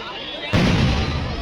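Fireworks at a temple festival go off with one sudden deep boom that rumbles loudly and then trails away.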